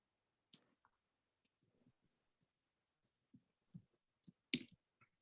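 Keyboard typing at a computer, sparse quiet clicks and taps scattered irregularly, with a few louder keystrokes near the end, heard alone without talk.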